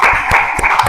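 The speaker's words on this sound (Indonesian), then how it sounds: "Mari kita beri tepuk tangan yang meriah untuk kelompok 2." Schoolchildren in a classroom clap briefly for a student discussion group, a short burst of close, loud, fairly rhythmic hand claps.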